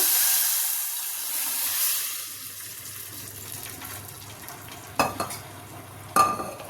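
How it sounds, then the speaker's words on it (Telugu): Dal soup is poured into a hot pan of tempering with asafoetida, first a loud, close hiss and sizzle that fades into quieter bubbling, followed by a couple of sharp clinks of a utensil against the pan. "ఇప్పుడు పప్పుచారు పోస్తున్నాను ఇందులో"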